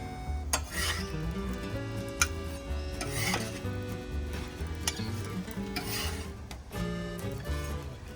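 A metal spatula scrapes and rubs food off an oiled barbecue grill with repeated rasping strokes, loud and close, with light sizzling and clanks underneath and no talking.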